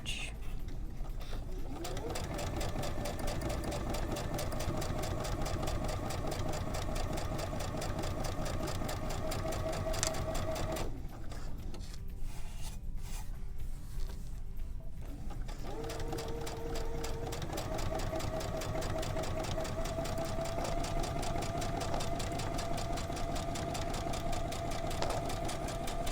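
A sewing machine fitted with a narrow zipper foot stitches in a steady fast mechanical whir, pausing briefly partway through and then resuming, loud and close throughout.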